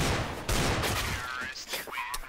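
Headshot gunfire in a CS:GO match on the map Cache, several sharp rapid shots in quick succession followed by softer game effects, with a voice faintly under the action.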